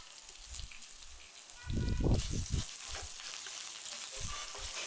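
Tamarind rice being stirred with chopped coriander in a pan, a soft sizzle with a short burst of spoon scrapes and clatter in the middle, then a few quieter stirs.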